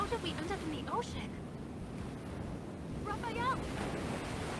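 Ocean surf washes in a steady low rush in the video game Love and Deepspace, with faint wind and a quiet, melodic voice drifting over it.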